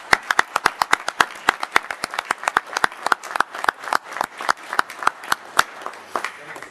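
Parish council meeting audience applause, a small group clapping with distinct, sharp individual claps in an uneven rhythm, fairly close and clear, continuing for several seconds without speech.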